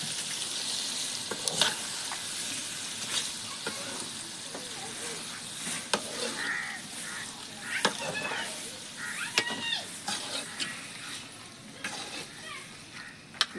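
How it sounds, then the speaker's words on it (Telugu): Masala-coated prawns sizzle and fry in a pan for prawn biryani, a steady hiss broken by scraping stirs and clinks at moderate loudness, with no talking. "మసాలా అన్ని పట్టించిన రొయ్యలు వేస్తున్నాం"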